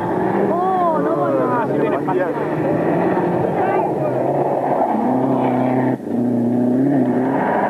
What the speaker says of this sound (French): toujours ce bruit caractéristique de la Lancia